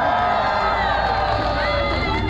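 A crowd at a live lumberjack show cheers and shouts together in a loud, continuous roar of many voices, steady from start to finish.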